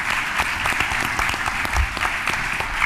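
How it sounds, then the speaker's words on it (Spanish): Audience at an innovation conference in Montevideo applauds steadily, a dense, even patter of many hands clapping at moderate loudness. "Un fuerte aplauso para él también."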